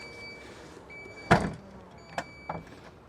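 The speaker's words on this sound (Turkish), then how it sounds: "Elektrikli olarak bagaj kapısının kapanması da iyi bir şey." A 2024 Jeep Avenger electric car's powered tailgate closes with one loud, close thud, followed by two lighter latching clicks about a second later.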